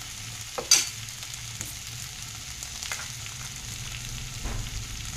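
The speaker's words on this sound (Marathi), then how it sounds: "कमी गॅसमध्ये वाफवून घ्यायची आपल्याला चटणी" Chutney steams and softly sizzles in a pan over low gas, a quiet steady hiss with a brief clink of stirring near the start and occasional light scrapes.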